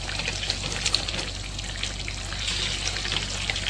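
Pumpkin curry with jaggery and tamarind simmering in a pan as it is stirred, a soft continuous bubbling sizzle with faint scraping clicks, close and moderate in level.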